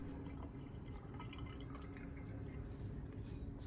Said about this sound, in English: Next, I strain out all the turmeric residue, keeping only the clear liquid.